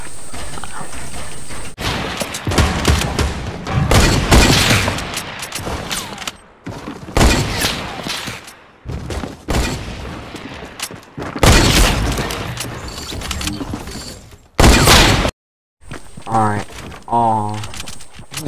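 Sniper gunfire in the video game Fortnite comes as booming shots and rapid bursts that alternate with stretches of excited talking, separated by a few abrupt silent gaps.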